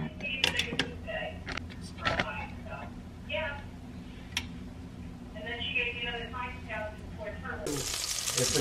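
Homemade burger patties, frozen beforehand, frying in a pan with a steady low sizzle throughout, occasional sharp clatters and a louder hissing surge near the end, while people talk intermittently over it.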